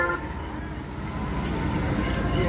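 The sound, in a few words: road traffic with vehicles honking during yatra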